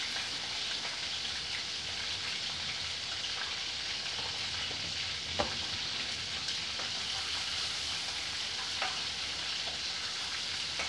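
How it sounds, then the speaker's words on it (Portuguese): Chopped onion frying in a pan for a zucchini and chicken drumstick lunch dish, a steady soft sizzle with faint crackles and an occasional stir clink, no talking. "Agora eu boto a cebola."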